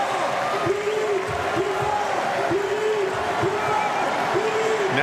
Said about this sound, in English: the crowd being encouraged to make noise, and they absolutely are.